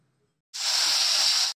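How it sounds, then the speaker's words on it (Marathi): A pressure cooker cooking toor dal lets out one loud, steady hiss of steam lasting about a second, starting abruptly after near silence and cutting off sharply. "प्रकारे हे कुकरमध्ये मी लावून घेतलेलं आहे"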